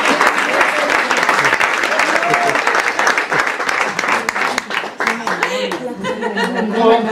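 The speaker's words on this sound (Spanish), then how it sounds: "¡Un aplauso al libro!" An audience at a storytelling gathering in Seville bursts into loud, sustained applause mixed with chuckles and laughter, the clapping thinning out toward the end as voices rise.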